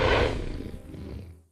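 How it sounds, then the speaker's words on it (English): A low, guttural roar from a Stegosaurus herd leader sounding an alarm, loud and close at the start, then rumbling down and fading out within a second and a half. "A low, guttural roar sounds the alarm"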